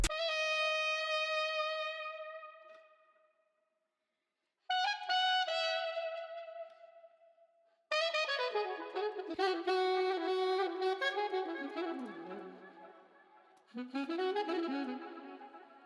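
A solo saxophone phrase plays in sustained, breathy melodic lines with short pauses, then grows denser and more layered, looping back around near the end.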